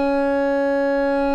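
The oscillator of a guitar effects pedal running with no noise gate, giving a steady, loud, unbroken synth-like drone with bright overtones and no playing over it.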